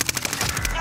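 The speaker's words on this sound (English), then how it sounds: "Under hostile fire." Rapid machine-gun fire from the Call of Duty Warzone video game, a quick burst of sharp cracks in under a second, close and fairly loud.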